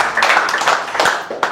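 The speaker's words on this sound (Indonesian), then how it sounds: "Berikan sorak-sorai buat Tuhan yang dahsyat." A church congregation claps in praise as a dense, close run of rapid handclaps and cheering, with a few sharper peaks near the end.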